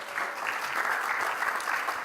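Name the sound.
audience applause for a panel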